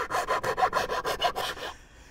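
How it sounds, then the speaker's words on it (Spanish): Sandpaper works a drilled hole in a motorhome door for a lock fitting, giving about nine rhythmic, rasping back-and-forth strokes, close and loud, then stopping, with no voices. "Tenemos que lijar un poquito el agujero este hasta que entre la pieza."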